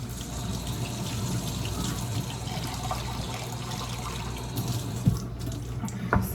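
Tap water runs into a cup in a home kitchen during cooking, a steady splashing trickle over a low hum, ending with a couple of light knocks.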